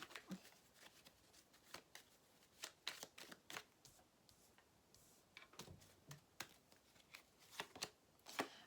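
Tarot cards are shuffled and drawn, giving faint, close, irregular clicks and soft riffling taps in quiet surroundings.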